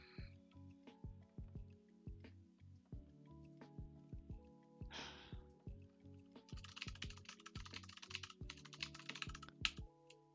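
Rapid typing on a computer keyboard, with steady clusters of sharp key clicks up close, a few heavier keystrokes, and a brief burst of brighter clatter midway; nobody speaks.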